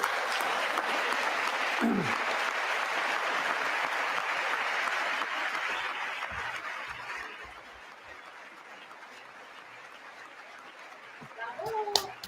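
Applause from the chamber at a State of the Union address, sustained and fairly even at first, then thinning and fading, with a voice briefly audible near the end.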